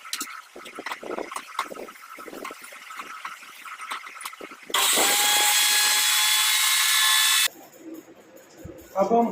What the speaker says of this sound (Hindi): तो स्टार्ट करते हैं इसकी जो है वो ग्राइंड करना है इसको।